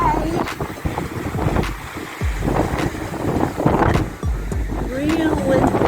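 Strong wind buffets the microphone in heavy gusts on a coastal road along Surf Highway 45 in New Zealand, a loud continuous roar with low thumps and some voices underneath.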